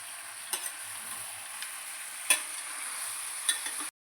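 Green jackfruit and potato curry is stir-fried in a pan under a steady, soft sizzle, with a few distinct scraping stirs cutting through now and then.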